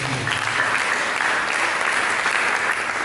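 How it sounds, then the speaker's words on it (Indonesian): A church congregation breaks into sustained applause, a dense, even wash of many hands clapping together that holds steady throughout with only a trace of voices. "Kita berikan tepuk tangan."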